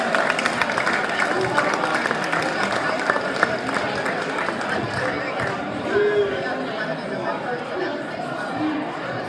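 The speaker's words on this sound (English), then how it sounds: "Let's give these guys a round of applause real quick." A crowd claps and cheers for a state-title high school team at a celebration, the clapping dense and continuous, mixed with chatter and voices throughout.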